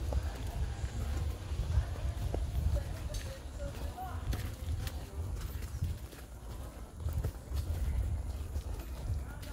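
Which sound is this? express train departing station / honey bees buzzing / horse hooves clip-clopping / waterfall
horse hooves clip-clopping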